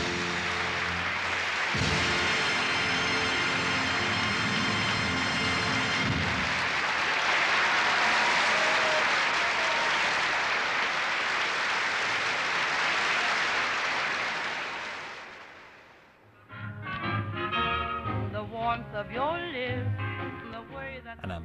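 An audience in a theatre breaks into thunderous applause, a loud, sustained wash of clapping that lasts about fifteen seconds before fading out and giving way to music.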